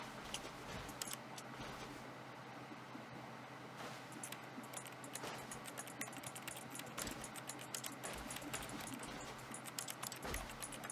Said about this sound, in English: his sounds are just keyboard sounds now